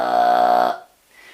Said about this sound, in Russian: получается красивое горловое пение кыргыра